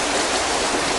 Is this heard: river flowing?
yes